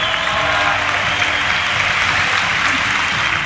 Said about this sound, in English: Clap it up if you're a fucking nerd.